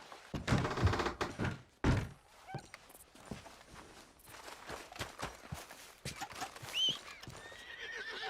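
A horse neighs with rising whinnies while its hooves clip-clop on the ground, close by, with occasional faint movement noises.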